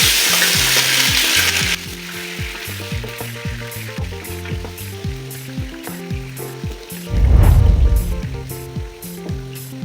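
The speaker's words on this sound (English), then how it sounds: "You have to let your onions get translucent, but also if you so wish, you can let them brown so that you can get the best taste." Onions sizzle and crackle loudly in hot oil in a pot for a tilapia stew, a close, steady frying hiss with stirring clatter and a louder surge near the end, without speech.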